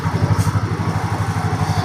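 A 2022 Yamaha Ray scooter with 13,946 km on it runs nearby, its small engine putting out a rhythmic, pulsing putter at a steady idle, fairly loud and close, with no speech.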